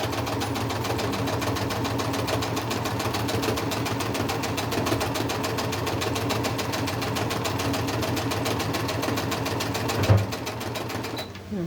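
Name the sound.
sewing machine stitching over a quilt block seam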